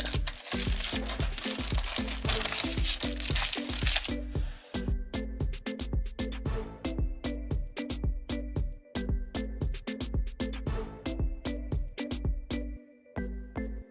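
Thin plastic foil around an issue of a De Agostini Polonez 1500 model car magazine crinkles loudly up close at first, then gives way to a quiet series of regular soft clicks.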